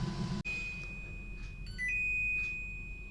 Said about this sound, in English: I think you've just heard the end of the beeps there